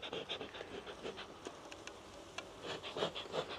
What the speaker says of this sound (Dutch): Ja, ik zie jonge bijen,